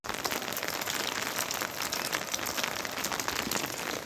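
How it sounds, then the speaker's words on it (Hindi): Steady rain pours down continuously, a dense hiss of drops striking a surface with no voices present. "बारिश लगी है"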